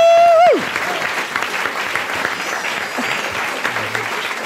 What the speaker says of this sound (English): I realize I clapped with everyone else.